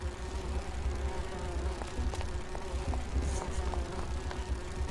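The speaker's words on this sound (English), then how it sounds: "These bees don't seem too busy." Bees buzz steadily in a Grim Fandango game scene, a continuous low insect drone with faint clicks and ambient hum running throughout, no voices.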